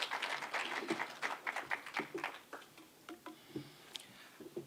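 Sparse, quiet applause at a National Disaster Response Steering Committee meeting in Kenya, a handful of people clapping in uneven rhythm that thins out and fades within a few seconds.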